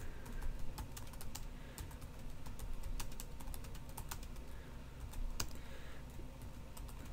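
Steady typing of code on a computer keyboard, quick irregular key clicks close by with occasional sharper taps, fairly quiet and without voices.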